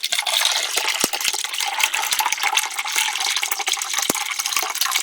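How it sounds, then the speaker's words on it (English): Tap water runs into a container at an off-grid camp, a steady hissing splash with scattered small clicks and knocks throughout, fairly close and without talk. "Turn the tap on more."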